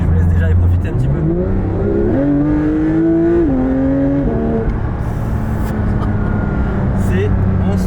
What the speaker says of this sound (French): C'est monstrueux ce flat 6, c'est monstrueux